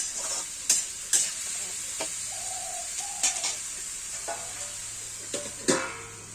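Drumstick flowers and potatoes are stirred in hot oil with fried onion, ginger and garlic: a steady sizzle broken by sharp scraping strokes at irregular intervals, close and moderately loud.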